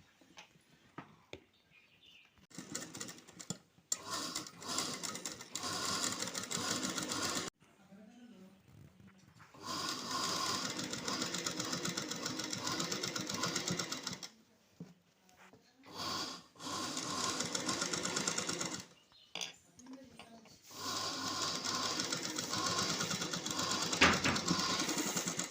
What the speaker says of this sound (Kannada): ಈ ಥರ ಈಗ ಇದನ್ನು ನಾವು ಇಲ್ಲಿ ಸ್ಟಿಚ್ ಹಾಕಬೇಕು.